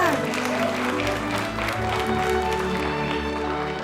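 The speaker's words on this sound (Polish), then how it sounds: "Julia Ulaszek, wielkie brawa!" An audience applauds the winner of a national Bible knowledge contest final at Niepokalanów, a loud continuous clapping with music playing underneath.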